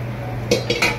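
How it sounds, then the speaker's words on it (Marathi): A metal kadhai set on the stove for mutton fry gives three quick clanks and scrapes of metal, close and bright, over a low steady hum. "आता हे मटन फ्रायला मी ठेवली कढी."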